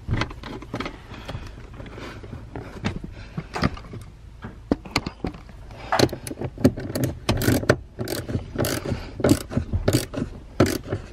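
Ratchet tightening nuts to bolt a Bride bucket seat into a Nissan 180SX, rapid clicking bursts repeating close up, growing busier and louder toward the end.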